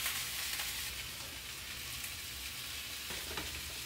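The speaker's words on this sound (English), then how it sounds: "All right, beans are bubbling" Beans sizzle and bubble in a pan with a constant hissing crackle, fairly quiet and close, with a faint clink near the end.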